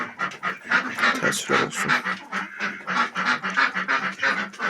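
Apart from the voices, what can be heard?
ducks quacking loudly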